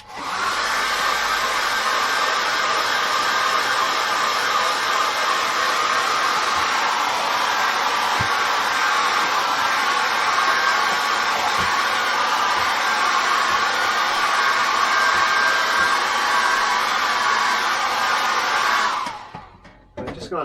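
Hair dryer blowing steadily to dry acrylic paint on card, a loud close continuous whoosh lasting about nineteen seconds before switching off.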